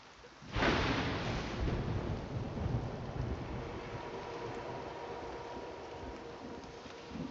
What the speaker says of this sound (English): It's nighttime, it's raining.